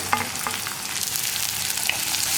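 Chopped onions sizzle steadily in a hot pan, a close, even frying hiss with a few soft spoon taps and scrapes from stirring.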